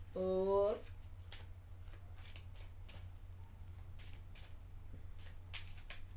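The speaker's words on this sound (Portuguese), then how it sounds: "Agora eu vou de baralho cigano." Cards of a Gypsy fortune-telling deck are shuffled by hand, a steady series of soft, papery riffles and snaps close by and quiet, after a brief spoken phrase at the start, over a low background hum.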